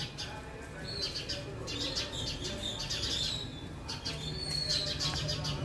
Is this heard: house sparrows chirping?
yes